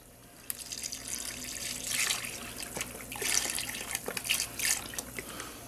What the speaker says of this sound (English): I'm going to put some stock in here now.